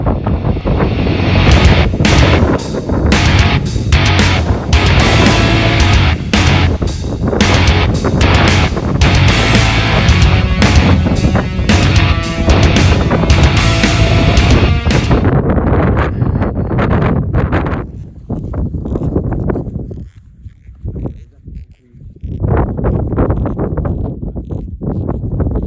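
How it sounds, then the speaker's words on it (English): Strong wind buffets the microphone at the top of Table Mountain, a loud continuous roar and rumble that drops off briefly near the end before gusting back up. "It's a bit windy"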